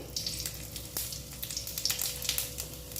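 Whole cumin seeds and a dried red chilli sizzle in hot mustard oil, a steady, close, crackling fry with scattered sharper pops throughout.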